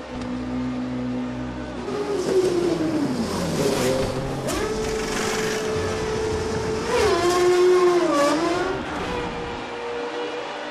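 Formula 1 car engine from the racing game F1 2013 accelerating out of the pit lane at Australia, a loud whining tone that climbs and drops through gear changes, continuous and close with no speech.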